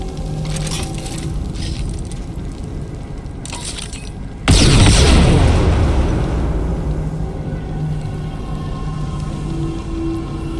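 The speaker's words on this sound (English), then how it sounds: "He will unleash orthonic hand bombs all over the place, and you'll only have one turn to get away before they explode." Hand bombs explode in Baldur's Gate 3: after a low rumbling ambience, one sudden loud boom hits and decays into a lingering crackling rumble, with no voices.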